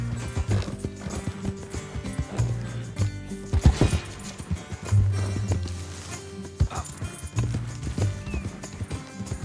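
Horse hooves clip-clop steadily as a rider travels toward Valentine and Rhodes in Red Dead Redemption 2, close rhythmic footfalls with an occasional whinny over light background sound.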